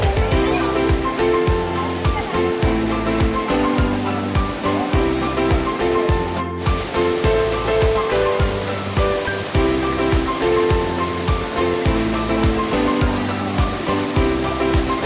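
Water gushes loudly and continuously from the source of Paglitaw natural spring in Tanay, Rizal. It is a close, full rushing roar with a rhythmic pulsing running beneath it.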